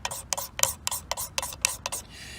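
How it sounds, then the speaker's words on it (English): A magnesium fire starter block scraped by hand in about eight short, rhythmic rasping strokes, close and fairly quiet, with a steadier rasp at the end. "You take your magnesium, you scrape it down,"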